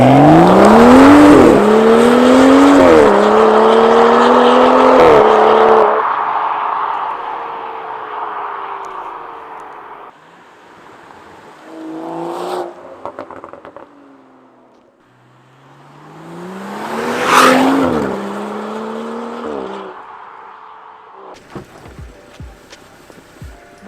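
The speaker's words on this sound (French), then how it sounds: "le bruit de la nouvelle ligne Miltech sur le 235i" A BMW M235i fitted with a new Milltek exhaust line, recorded from outside, roars loudly as it accelerates through rising gears, then passes more quietly at cruising speed before a second, fainter acceleration and idle.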